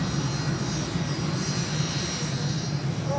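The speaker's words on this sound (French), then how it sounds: "Dans cet avion en provenance de Hong Kong qui atterrit à Moscou ce dimanche, Edward Snowden." An airliner arriving from Hong Kong lands in Moscow with a loud, continuous engine roar and broad rushing noise that holds steady and close throughout.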